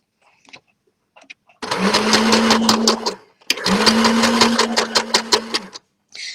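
Sewing machine stitching a striped tie-dye bag, running in two sustained bursts of steady mechanical whirring with a rapid regular needle rhythm, near and loud, separated by a short pause, with faint handling sounds before.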